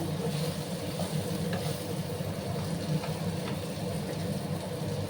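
Taro pieces frying and being stirred in a pan, a steady dense sizzle with occasional soft scraping from the spatula, continuous and close with no one speaking.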